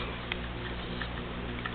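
An old Sunbeam electric clock ticks softly over a steady low electrical hum, the faint even ticks recurring beneath the constant drone with no voices.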